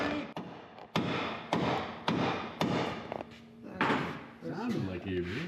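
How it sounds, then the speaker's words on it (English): Repeated loud hammer blows on a metal exhaust part during an exhaust installation, roughly six sharp impacts spaced about half a second apart, with people talking in between and over them. "I need a bigger hammer."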